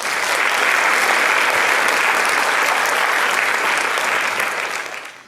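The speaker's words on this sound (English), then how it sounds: "Big round of applause for Jigna Ben and Krishna" Sustained, loud audience applause fills a hall after a Bharatanatyam arangetram, steady dense clapping that holds for several seconds before fading out.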